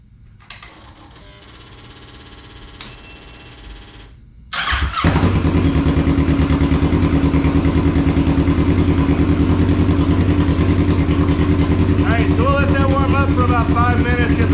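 After a quiet whir, a Kawasaki Ninja 650R motorcycle engine fires up and runs at a loud, steady, close idle while warming up, with faint talking toward the end.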